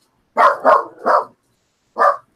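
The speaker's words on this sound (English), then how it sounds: "That would be my dog, Charlie." A pet dog barks close by, three quick barks followed by a pause and one more, loud and isolated with no talking over them.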